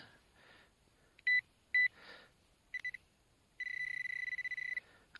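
A metal detector sounds off on a field during a dig. It gives two short sharp beeps, a few quicker chirps, then a sustained pulsing tone lasting about a second. The beeps are clear against quiet surroundings with no talking.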